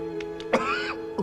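A man coughs once sharply up close, a brief raspy throat-clearing burst followed by a couple of smaller breathy catches over a low background hum.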